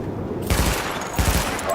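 Weapon test gunfire in The Division: two loud bursts of automatic fire, each about a quarter second, close and forceful over a steady background hum.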